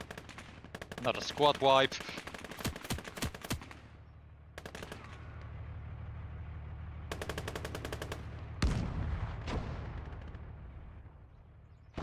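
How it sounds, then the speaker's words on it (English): Bursts of automatic machine gun fire in a multiplayer war video game, rapid rattling volleys in the first seconds followed by further sharp shots and a heavy blast, with a player speaking briefly over the gunfire. "I heard machine gun fire."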